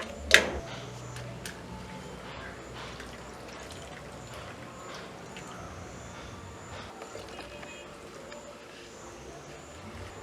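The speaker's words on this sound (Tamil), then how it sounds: "கொஞ்சம் கொஞ்சம் தண்ணி விட்டு புளிஞ்சு எடுப்போம் என்ன" Water is poured onto grated coconut to squeeze out coconut milk in a Sri Lankan village kitchen, a faint continuous trickle after a brief clatter at the start, low and close.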